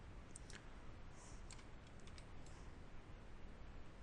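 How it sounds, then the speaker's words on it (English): Computer keyboard typing during CAD design work on a metal lamp structure, a steady run of light, quick key clicks heard close and fairly quiet over a constant low background hum. "Typing on the keyboard."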